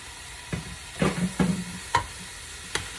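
Zucchini and broccoli are stirred in a hot pan, producing a handful of scraping strokes with bursts of sizzle. The strokes come close and loud at uneven intervals, then fade back into a soft hiss between stirs.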